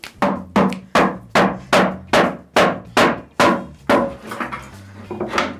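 A hammer pounds a wooden coffee table in about a dozen loud, close, evenly spaced blows that become slightly quicker and more irregular toward the end, with no voices.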